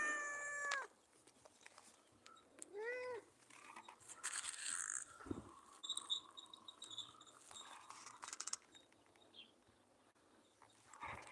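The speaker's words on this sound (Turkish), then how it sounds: "Ben canlı yayın yaparken canlı yayınıma konuk olmak isteyen bir kedi miyavladı bakın arkadaşlar." A cat meows nearby in a quiet room, a few drawn-out, rising and falling calls spread out among soft rustles and small taps.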